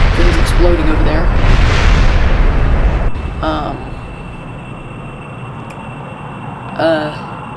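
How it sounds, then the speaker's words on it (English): Explosions of aircraft parts in Kerbal Space Program during a replica A-6 Intruder or F-14 Tomcat flight, with a loud rumbling blast that fades into a softer roar, a later sharp pop, and a voice speaking over parts of it. "Things exploding over there."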